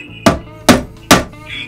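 Three evenly spaced, sharp hammer blows drive frets into the neck of a 1965 Gibson LG1 acoustic guitar during a refret, close and solid, with no talk.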